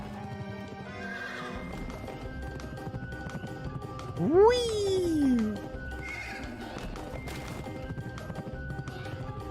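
Horse in the video game Pumpkin Jack gallops with steady hoofbeats under game music, then gives a loud, rising-and-falling whinny midway before the galloping carries on; a voice calls out briefly.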